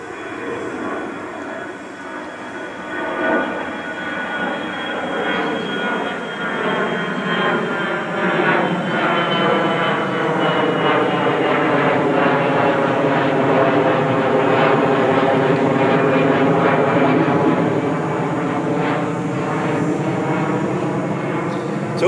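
An airplane passes overhead during an outdoor gathering, a broad rumbling engine drone that swells steadily and holds loud for over twenty seconds with no talking.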